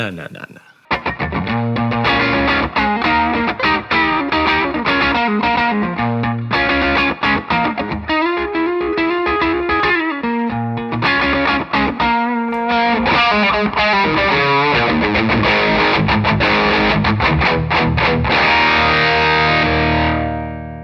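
A Telecaster electric guitar plays a continuous stream of heavily distorted, effects-laden riffs and chords, loud and up close, changing tone through the passage with no talking over it.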